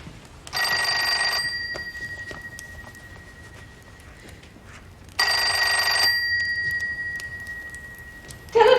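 An old-fashioned telephone bell rings loudly in two long rings with a pause between them, set in a scene from a Miss Fisher's Murder Mysteries drama episode.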